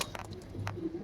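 Two released pigeons cooing softly at close range, a low murmuring coo with a few faint higher bird sounds over a quiet background.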